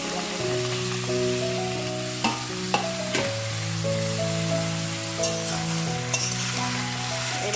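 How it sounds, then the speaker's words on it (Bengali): Potato and watermelon frying in hot oil, a steady bright sizzle with occasional stirring clinks and pops, close and alone without voices. "এবার আমি এই তেলের মধ্যে আলু আর তরমুজটা একটু ভেজে নেব"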